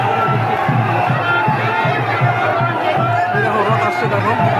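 Dense crowd at the Guptipara Rath Yatra chariot festival, in rain and mud, as a steady loud wash of overlapping voices and chatter close around, with no single speaker standing out.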